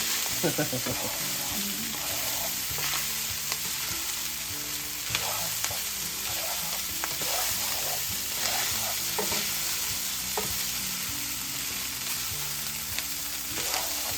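Food crackles loudly in a hot skillet as it is stirred, producing a dense, sustained sizzle with irregular scraping and clinks of utensil on the pan throughout, close and steady.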